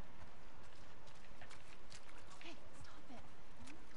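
Hooves of a horse clip-clopping at a walk in The Last of Us Part 2, a steady rhythmic patter over ambient game noise, with a few brief voice-like calls.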